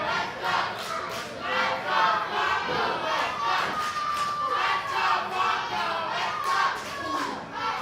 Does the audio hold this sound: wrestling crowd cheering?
yes